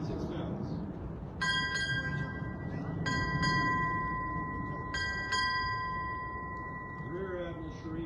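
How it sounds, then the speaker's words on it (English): A ship's bell rung six times at a United States Navy retirement ceremony, struck in three close pairs of clear ringing strokes with lingering tones over a constant crowd and room murmur. "Bell ringer. Sound 6 bells."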